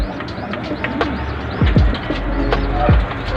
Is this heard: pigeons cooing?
yes